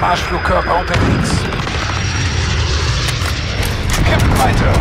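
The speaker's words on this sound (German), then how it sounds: "Verbündeter Marschflugkörper unterwegs." An allied cruise missile strike in a war video game: continuous loud rumbling booms and roaring impact noise across the whole stretch, with dense battlefield din and no clear pauses.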